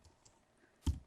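A few faint clicks of typing on a computer keyboard, ending in one sharper keystroke near the close.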